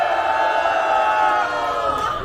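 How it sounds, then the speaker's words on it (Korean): A crowd at an outdoor candlelight protest rally on a busy city street in Cheongju lets out a sustained, sonorous collective shout. The dense cheering holds at an even level for its brief length. "동의하시면 함성 한번 질러주세요."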